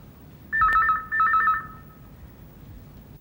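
A telephone rings indoors in a family drama scene, two short bright trilling bursts close together and loud, then the tone trails off into a quiet room with no one speaking.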